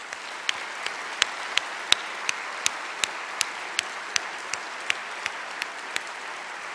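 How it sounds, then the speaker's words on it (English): Applause for university staff at a campus address, a steady roar of many hands in a large hall, with one nearby clapper's sharp, evenly timed claps cutting through the crowd. "give a big round of applause to this dedicated group of staff members"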